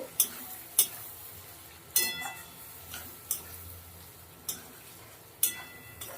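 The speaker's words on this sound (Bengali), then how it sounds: "দুটো কাঁচা লঙ্কা চিড়ে নিয়েছি দিয়ে দিচ্ছি একটু কষিয়ে নেব" Green chillies sautéing in a pan for vegetarian ghugni, giving a faint low sizzle broken by sharp clicks of a spatula stirring against the pan about once a second, with no one speaking.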